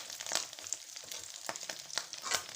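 Egg-dipped Thai khanom kheng, a sticky rice cake, frying in hot oil: a steady soft sizzle with repeated crackling pops, close and fairly quiet.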